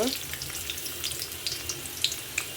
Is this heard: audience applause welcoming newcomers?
no